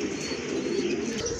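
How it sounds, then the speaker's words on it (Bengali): Racing pigeons offered for sale coo in a steady, low, continuous murmur, close by, with no talking. "খুবই সুন্দর কোয়ালিটিফুল কবুতর দেখেন দেখার মতো অস্থির এক জোড়া কবুতর"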